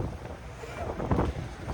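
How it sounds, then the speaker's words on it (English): Gusty wind blows outdoors beside a flatbed truck during load securing, buffeting the microphone with steady low rumbling noise throughout, no voices. "It's a little windy today too."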